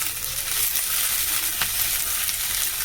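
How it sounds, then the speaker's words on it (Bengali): Cabbage and Malabar spinach fry in a pan, giving a steady, close hiss of sizzling that runs evenly throughout with no talking. "সবজিটা ভাজা হয়ে গেছে"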